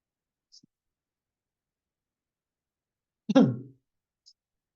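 A single short, close cough in an otherwise quiet room, with a couple of tiny clicks before and after.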